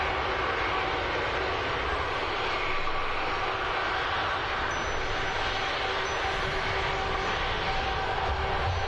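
An ITA Airways Airbus A320neo lands at Birmingham Airport, its engines giving a steady, broad roar that stays loud and even for the whole stretch, with no talk over it.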